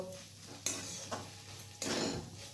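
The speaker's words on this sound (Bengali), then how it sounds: "এরপর আমি আরেকটু নাড়াচাড়া করে নেব" Mutton keema with roasted kasuri methi stirred in a pan, soft sizzling under a few distinct scraping stirs of a spoon against metal, close and fairly quiet.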